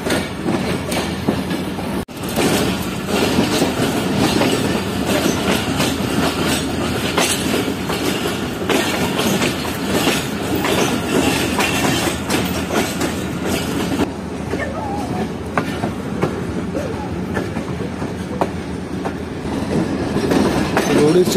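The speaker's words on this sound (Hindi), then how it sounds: "स्टेशन को ट्रेन ने छोड़ दिया है और ऐसे ऐसे ट्रेन आगे बढ़ रही है" Tezgam passenger train in Pakistan rolling along the rails after leaving a station at night, a steady rumbling clatter of wheels on track with faint rhythmic clicks, continuous and close throughout.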